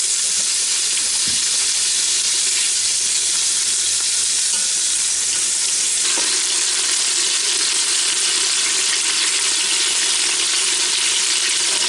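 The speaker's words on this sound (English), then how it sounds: "Now you can hear it sizzling." Sausage and shrimp sizzle loudly and steadily in a Ninja Foodi Deluxe cooker pot, a continuous bright frying hiss that lasts throughout, with no talking.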